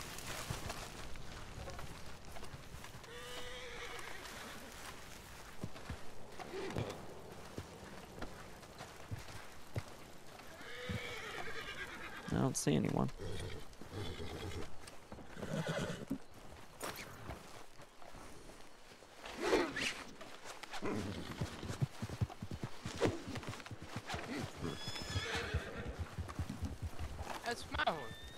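A horse whinnies and hooves clop along amid ambience from the video game Red Dead Redemption 2, while people talk over the sounds.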